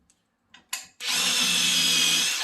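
A cordless drill fitted with a Vix self-centring bit bores into a plywood cabinet, a few faint taps and short spin-ups before one loud, steady whirring run of about a second and a half, close and alone.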